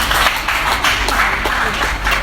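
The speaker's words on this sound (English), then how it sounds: "So please clap for yourself." A conference audience claps for itself at a business event, a dense, steady patter of many hands filling the room.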